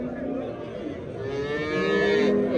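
A cow moos in a long, drawn-out, rising call close by, with faint farmyard background and no clear talk.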